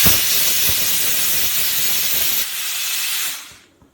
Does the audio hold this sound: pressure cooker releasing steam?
yes